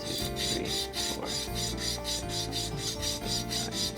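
A guitar nut is hand sanded with steady back-and-forth rasping strokes, a close, even, rhythmic scratching with no talk over it.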